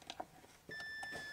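A multimeter continuity tester emits a sustained electronic beep after a few light clicks as the probes touch the grounding pins of an inverter.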